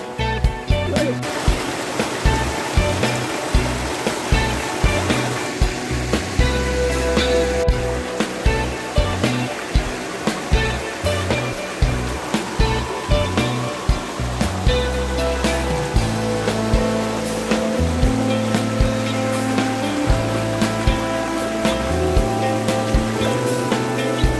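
A river in a village in Pandeglang, Banten, rushes and splashes steadily where people bathe, a loud, close, continuous wash of water with faint voices underneath.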